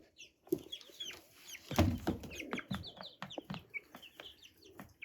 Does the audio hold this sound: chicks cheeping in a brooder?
yes